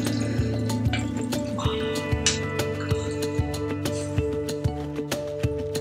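Ferrofluid drips steadily as a container refills, giving a close, evenly paced series of soft liquid drops over a low background hum.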